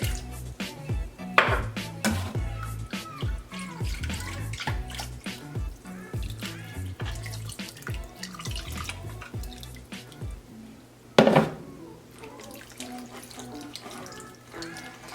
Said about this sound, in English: I'm just gonna use some of the leftover water to get everything left on my blender